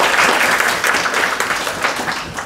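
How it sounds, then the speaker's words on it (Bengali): Steady applause from an audience at a motivational training session, dense and continuous clapping with no pauses, fairly loud throughout. "আসুন সবাই মিলে একটা হাততালি উপহার দিই।"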